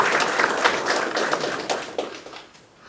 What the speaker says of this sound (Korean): 박수 한번 쳐주시기 바라겠습니다.